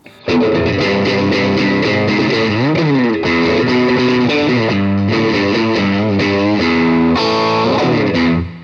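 A Kazuki Relic Strat-style electric guitar played through its pickup, a bright, clear overdriven tone strumming continuous chords and sliding runs at steady loudness, alone with no voices.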